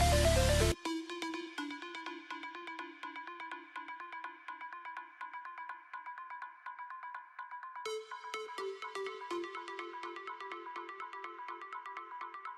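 Synth plucks ring out in an electronic music track's break section, with heavy, automated delay feedback that makes repeating tonal notes echo and sustain continuously in the background; the pattern shifts to a new pitch partway through.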